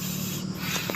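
A sprayer misting herbicide onto weeds in a rice paddy, a steady close hiss running for the full second with a couple of brief spurts near the end and no talking.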